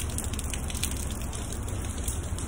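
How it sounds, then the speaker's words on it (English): Rain falls steadily outdoors beside a 2022 Honda Civic Sport, a soft continuous patter at low volume with no talking. "It's raining out here"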